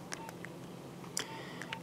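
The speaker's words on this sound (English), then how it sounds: "It has these pretty cool preset ringing options." A Nokia 8390 mobile phone cycling through its preset ringing tones, a sequence of short electronic beeps and tonal chirps playing close and clear with no voices.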